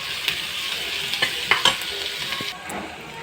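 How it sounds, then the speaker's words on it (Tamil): Onions and curry leaves frying in a pan, a steady close hiss of sizzling oil broken by brief scraping stirs, alone with no talk. "வெங்காயம் பொன்னிறமாக வறுக்க வேண்டும்."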